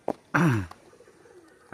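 A band-necked pigeon with white eyes, ear tips and a white face gives a short, close coo, with a faint soft call after it and brief bumps at the start and end.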